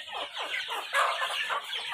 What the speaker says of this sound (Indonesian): Nah, ini induk ayam.